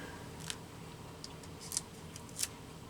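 Scissors snipping into collage paper for a junk journal page, a few soft, brief crisp cuts spaced apart over a quiet, hissy background with no talking.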